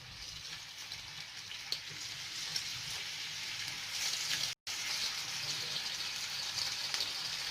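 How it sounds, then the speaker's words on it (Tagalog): Breaded lean meat fillet deep frying in hot oil gives a steady, close, bright sizzle with soft crackles and faint bubbling, running continuously apart from one very brief cut. "Deep fry natin siya."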